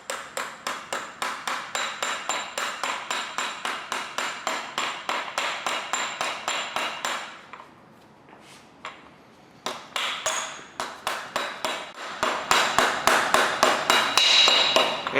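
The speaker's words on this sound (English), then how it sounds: "we're just gonna lightly tap it on" Hammer tapping a socket to seat the crankshaft timing gear on a 5.3L LS LM7 V8 engine: steady, evenly spaced metallic taps, close and sharp, pausing briefly midway before resuming with louder, ringing strikes.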